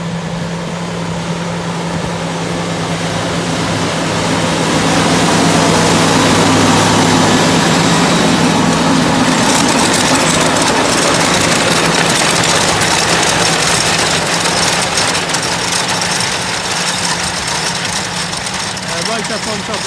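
A tractor drilling wheat into a linseed and buckwheat cover crop on a hilltop field drones with a loud, steady low engine rumble that swells and holds, with mechanical rattling layered over it throughout.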